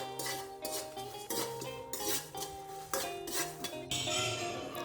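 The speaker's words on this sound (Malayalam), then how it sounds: "ഉലുവ, കുരുമുളക്, മുളക്, ഇത്രയും സാധനങ്ങളുടെ നമുക്കിതൊന്ന് മൂപ്പിച്ചെടുക്കാം." A metal spoon clinks and scrapes against a pan while fenugreek, black pepper and chili are dry-roasted, in repeated stirring strokes with a faint background hum, no talk.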